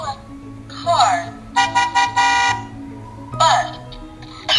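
A toy book's electronic car horn honks in several short beeps in a quick cluster, preceded and followed by brief chirpy electronic jingles.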